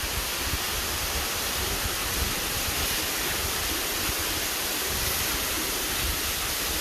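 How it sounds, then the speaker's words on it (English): A steady, broad rush of a waterfall in the Blue Mountains' Grand Canyon roars without pause, loud and close, with no voices. "I think we may be walking under that waterfall there"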